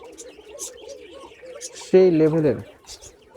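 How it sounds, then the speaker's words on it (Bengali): A male Bashiraj Koka pigeon gives one short, throaty coo near the end, close and clear, after someone talks over a soft background of other birds. "কোকা কবুতরের বাসিরাজ কোকা কবুতরের একটু ডাক শোনার চেষ্টা করছি।"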